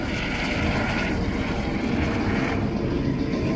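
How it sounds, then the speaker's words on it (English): An MH-65 Dolphin helicopter with two Turbomeca Arriel 2C2 turboshaft engines flies past, producing a loud, steady broadband roar of turbine and rotor noise throughout. "Coming in from your right, the MH-65 Dolphin, powered by 2 Turbomeca Ariel 2C2 turboshaft engines producing"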